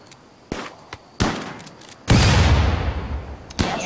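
Frag grenade explosions in the RimWorld video game: several sharp, loud bangs at irregular intervals, building to a heavier blast with a long rumbling tail, then one more crack.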